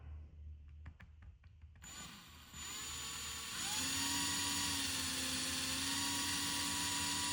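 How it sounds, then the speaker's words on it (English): A small 1/16 drill bit bores into a plastic LG Magic TV remote: a few faint taps, then a close, steady high-pitched whine that rises and holds as the drill runs. "let me just drill it straight up"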